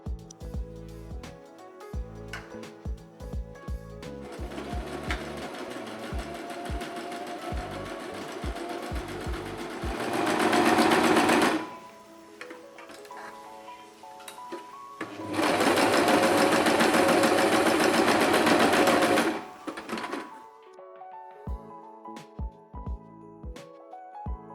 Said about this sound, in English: stitch on the sewing machine